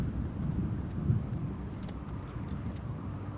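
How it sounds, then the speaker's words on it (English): Distant rumbling thunder of an approaching storm in the game Oxenfree, a low continuous roll under faint wind and rain-like hiss, no voices. "Oh great, a storm is coming."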